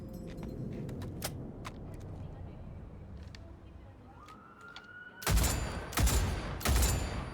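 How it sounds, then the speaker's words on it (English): Precision rifle fire in the video game Cyberpunk 2077: after a low ambient rumble with faint clicks and a rising tone, three loud sharp shots ring out near the end, spaced about half a second apart. "that's what it means by precision rifle. Good recoil on that."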